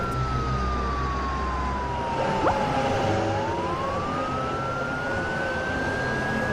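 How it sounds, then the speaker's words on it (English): A single police car siren wail slides slowly down and then back up, fairly faint and distant beneath a dense, steady wash of background noise. "Police cars can make a siren sound."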